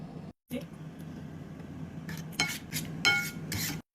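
Tagliatelle in a cheese sauce is mixed in a pan, producing intermittent clinks and scrapes of utensils against cookware with short louder bursts and brief gaps, heard close.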